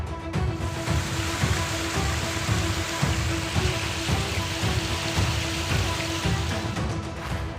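Torrential rain pours over the Amravati district of India during flooding: a dense, loud, continuous downpour hissing on surfaces with steady low rumble and rhythmic pulses underneath, no voices.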